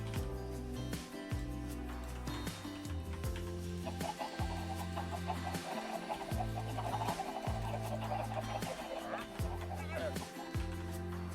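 Chickens cluck in the video game Minecraft, short blocky calls repeating over a steady, loud bed of game music with a low pulsing pattern, the clucks sitting in the background.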